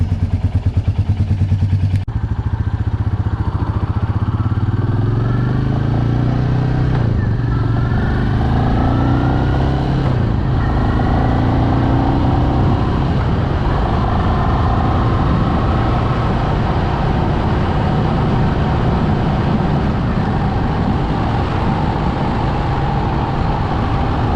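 A Royal Enfield Meteor 350 motorcycle out on a ride, its single-cylinder engine thumping steadily and loud throughout with rising and falling pitch as it shifts and accelerates, plus wind rush, no talk.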